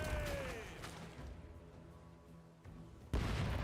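Cannons fire in the pirate video game Rogue Waters, with a heavy boom at the start and another burst near the end over a low rumbling game soundscape.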